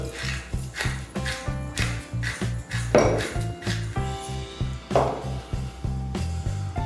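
A spoon beating cream cheese filling with salt, paprika and pepper in a bowl, producing a steady rhythmic series of knocks and scrapes against the bowl, close and moderately loud, with no talk over it.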